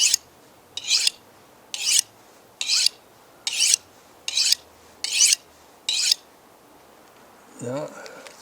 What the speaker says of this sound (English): maybe sharpen my knife a little bit first